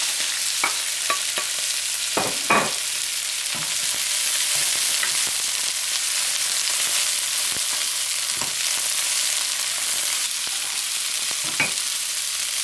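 Bean sprouts and chai stir-fry in a hot pan with a steady, bright sizzle, broken by sharp scrapes and clinks of a utensil tossing the vegetables, close and continuous with no talking.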